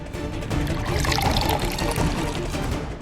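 Drinking water poured into a glass at home gives a steady, close splashing and trickling sound that runs for a few seconds with no talk.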